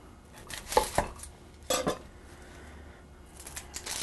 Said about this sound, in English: I want to just chop this up,